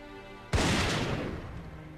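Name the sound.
gunshot of a hunter shooting a buffalo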